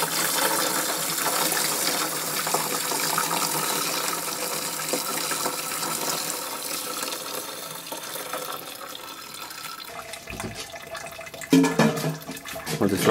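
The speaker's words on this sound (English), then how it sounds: "I'll just let that drain before I top it up with the water." Hop-steeped wort drains from homebrewing equipment for an easy golden ale, a loud, steady liquid rush that fades out near the end into gurgles, knocks and splashes, heard close with no voices.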